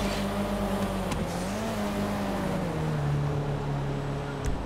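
Paragon race car in a GTA online race on an airport private track, its engine droning steadily and close with pitch rising and falling through the run, a brief whoosh of another car passing near the start and end.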